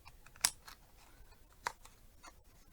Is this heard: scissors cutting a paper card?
yes